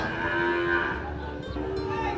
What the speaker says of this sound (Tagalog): So ito po, dalawa pang kalabaw.